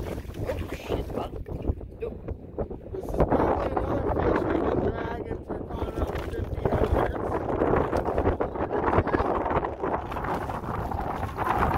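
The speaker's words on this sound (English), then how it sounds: "The wind has definitely picked up." Wind gusts rush over Rocky Fork Lake and buffet the microphone while a boat drifts during catfish fishing, a steady rumbling roar with people talking over it.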